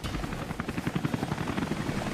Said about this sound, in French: J'aime pas trop les hélicos